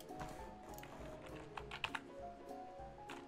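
Faint computer keyboard typing during a Madden 19 Ultimate Team gaming session, a scattered run of soft key clicks mixed under steady game audio and background music.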